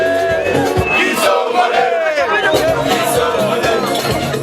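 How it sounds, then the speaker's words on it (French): A concert crowd at the Manseba group's tenth-anniversary show in Lubumbashi roars and cheers as the artist arrives, a loud, continuous wall of voices with someone talking over it. "C'est sous des applaudissements frénétiques qu'il est accueilli."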